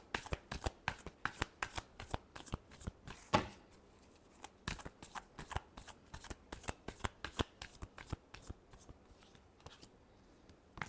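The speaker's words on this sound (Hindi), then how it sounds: "Last shuffle." Tarot cards are shuffled by hand in a long run of quick, crisp riffling flicks and slaps, close and moderately loud, with no talking over them.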